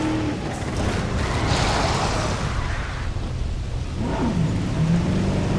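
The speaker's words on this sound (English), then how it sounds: "Maybe it's because it's not a real storm, it's just rain." Rain in the Jurassic World Evolution video game, a steady hiss of falling rain with low rumbling underneath, continuous for several seconds.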